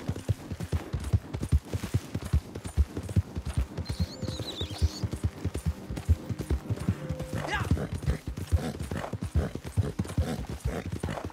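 Horse hooves clip-clopping rapidly and steadily in the Red Dead video game, a close galloping rhythm with a brief whinny and distant game sounds in between.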